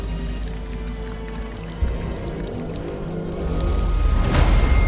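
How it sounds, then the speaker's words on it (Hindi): Water pours under pressure from a raised source at a hillside spot in Chhattisgarh, a steady close splashing rush that grows louder in the final seconds, with no talk. "यहाँ सोर्स ऑफ वाटर यानी पानी का स्रोत ऊंचाई पर है, जहाँ से पानी प्रेशर के साथ गिर रहा है"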